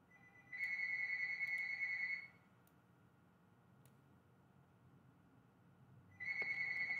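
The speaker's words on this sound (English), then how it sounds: "Sorry about that phone ringing." A phone rings indoors in two bursts of electronic trilling tone, one early and one at the end, separated by a quiet gap with faint room hum, moderately loud and without talk.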